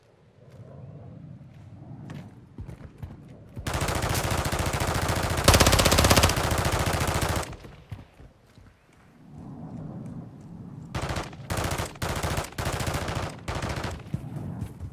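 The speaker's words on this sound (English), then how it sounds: "You are taking effective fire." Gunfire in the Call of Duty DMZ video game: a long, loud sustained burst of automatic fire, then a run of shorter bursts after a brief lull.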